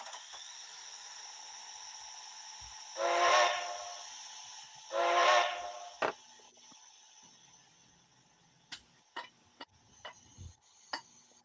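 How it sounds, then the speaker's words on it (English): A sound decoder in a model steam locomotive gives two long hissing whistle blasts, followed by scattered sharp clicks and ticks, heard faintly with a quiet background hum. "That horn sounds, that whistle sounds like a whistle off"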